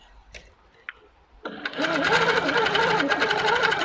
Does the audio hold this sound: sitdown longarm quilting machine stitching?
yes